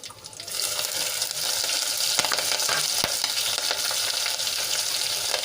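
Whole spices (bay leaf, dried red chillies, a cinnamon piece and cloves) sizzle steadily in hot oil as tempering for Gujarati kadhi, a loud continuous crackling fry with faint stirring, no voices.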